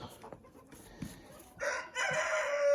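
A few soft clucks, then a rooster crows loudly and close, its long drawn-out call rising and holding to the end.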